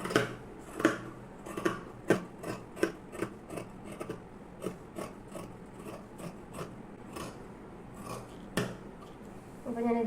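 Scissors trim the uneven edge of a piece of waste cloth to level it, making a series of sharp, close snips at an irregular pace over a quiet background.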